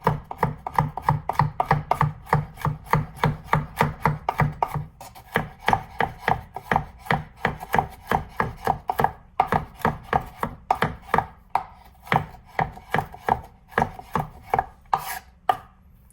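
A chef knife chops food on a cutting board in a fast, steady run of sharp, close taps, pausing briefly near the middle before the rhythm picks up again and continues to the end.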